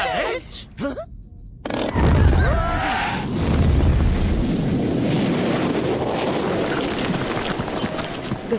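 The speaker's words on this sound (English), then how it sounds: "the rocket touched down" A cartoon rocket touches down with a brief swooshing sweep, then a loud, deep roaring rumble that holds steady for several seconds and fills the scene.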